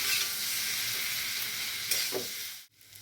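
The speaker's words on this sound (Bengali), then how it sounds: "পনিরটাকে লাল লাল করে ভেজে নিয়েছি" Paneer cubes fry in hot butter in a pan, giving a steady, loud, hissing sizzle that drops away abruptly near the end.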